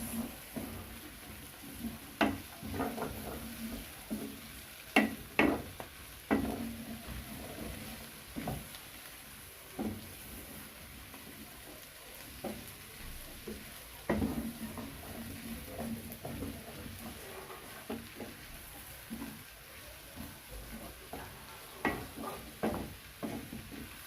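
Vegetable fried rice with cabbage and green pepper is stirred in a hot pan, giving a steady soft sizzle broken by frequent scraping and clinking of the spatula, moderately close and without talk.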